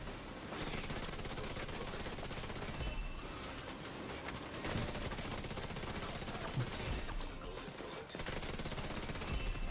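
Sustained automatic gunfire from weapons in The Division 2, a dense, loud, continuous barrage of rapid shots with only brief breaks, no voices.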